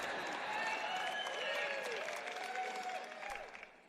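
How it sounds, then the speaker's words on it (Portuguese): Audience applause at a church sermon, a dense steady patter of clapping that stays fairly even and then thins out toward the end, with faint voices and tones mixed in underneath. "aquele pessoal ali está aplaudindo mais do que vocês"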